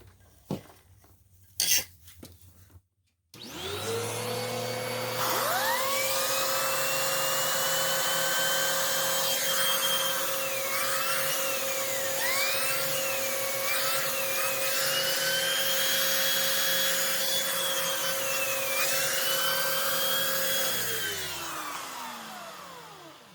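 A reassembled curbside Bissell PowerClean carpet cleaner starts after a couple of clicks, its motor spinning up into a loud sustained whine with wavering tones that holds for about eighteen seconds before beginning to wind down.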